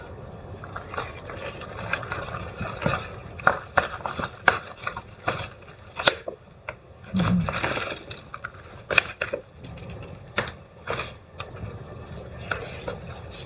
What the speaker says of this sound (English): Stir it around, just squishing it between my fingers.